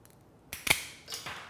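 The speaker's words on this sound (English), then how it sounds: "and we're just going to cut the cable off" Cable cutters snip through bike gear cable casing, a crisp close click followed by a second fainter crunch, quiet and with no talk.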